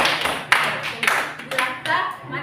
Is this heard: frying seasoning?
no